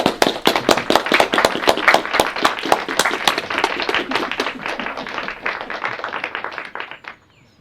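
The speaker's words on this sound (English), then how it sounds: "A round of applause." A small audience claps in a steady round of applause at a library gathering, dense sharp hand claps that carry on strongly for about seven seconds before stopping abruptly.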